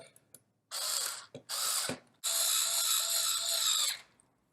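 A power driver tightens a part during an Autoslide door motor upgrade, running in three loud, close whirring bursts with short pauses between them and a ratcheting edge, then falling silent.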